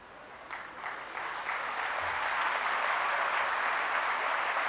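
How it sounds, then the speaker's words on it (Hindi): An audience at a university convocation ceremony applauds, the clapping starting light and swelling into a loud, sustained wash of many hands. "आप लोग जितनी जोर से मेरे लिए ताली बजा रहे हैं"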